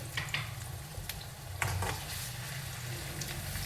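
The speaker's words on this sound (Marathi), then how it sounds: "मी 1 चम्मच अद्रक लसण आणि कोथिंबीरची पेस्ट टाकत आहे." Ginger, garlic and coriander paste frying in oil with browned onion for a spicy Nagpuri Saoji fish dish, a steady soft sizzle broken by a few brief scraping stirs, heard close and fairly quiet.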